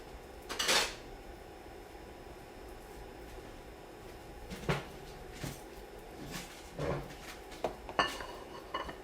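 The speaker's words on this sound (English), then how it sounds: "I'm going to grab a plate" Dishes clatter in a kitchen as a plate is grabbed, with a sharp ceramic clink at the start and then several scattered knocks and clinks of plates and cutlery, close by and spaced apart, with no talk.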